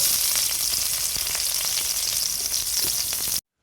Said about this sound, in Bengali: তেলটা গরম হয়ে গেলে আমি এর ভিতরে পেঁয়াজ কুচি দিয়ে দেবো।